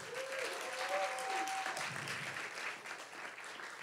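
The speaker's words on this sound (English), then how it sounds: "Let's give Inbo a round of applause" Steady audience applause at a StorySlam storytelling show, dense even clapping that holds at a constant level from start to finish.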